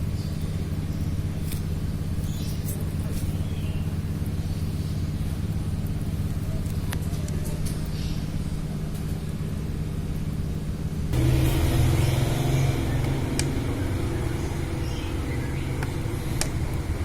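A motorcycle engine running on Unirace SAE 40 oil after a drained Pennzoil change idles and revs in a steady low drone, with a brief louder rise partway through and the revs falling back quickly.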